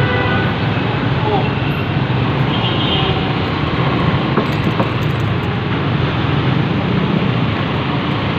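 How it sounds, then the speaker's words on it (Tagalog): MRT train on an elevated line at Shaw Boulevard along EDSA, a continuous loud rumble blended with heavy roadside traffic noise, steady throughout with no clear start or stop. "MRT po yan guys, ng Shaw Boulevard."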